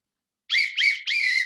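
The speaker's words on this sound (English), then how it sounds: "with my little whistle." A small whistle blown in three quick bursts, loud, bright and close, with nothing else heard.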